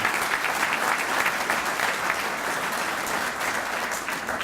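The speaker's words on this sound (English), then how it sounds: "Let's give Simmons a great big round of applause." Sustained applause from an audience at a governor's announcement of a new chicken plant, dense and even, filling the room.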